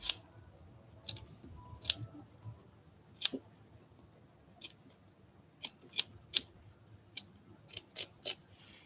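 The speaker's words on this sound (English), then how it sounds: "Okay, so just going to trim a little bit of this off." Scissors trimming excess fur on a leopard seal art doll, a dozen or so sharp close snips scattered irregularly over quiet background.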